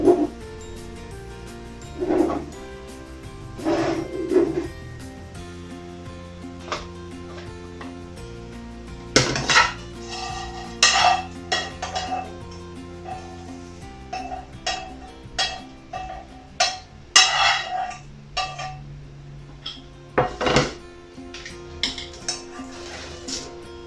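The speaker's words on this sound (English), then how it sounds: "I'm just gonna roughly cut it and mix with all the vegetables as well." Spinach is chopped roughly on a board and tossed with vegetables for a quinoa bowl, with irregular knife taps, clatters of utensils and dishes, and light rustling, close and moderately loud.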